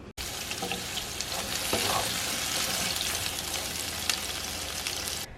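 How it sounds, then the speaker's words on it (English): Onions frying in a little oil in a hot pan, a steady broadband sizzle with occasional stirring scrapes, close and fairly loud, no talking. "I'm gonna heat up my pan, add a little bit of oil, and then I'm gonna cook the onions a little bit until they start to soften"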